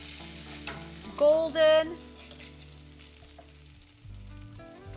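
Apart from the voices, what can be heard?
crab cakes sauteing in a frying pan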